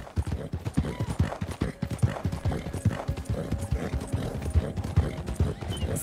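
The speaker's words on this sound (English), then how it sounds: "So many horses." Horse hooves clip-clop steadily and close in Red Dead Redemption 2, a dense rhythmic clatter of several horses with a brief whinny mixed in, loud and continuous.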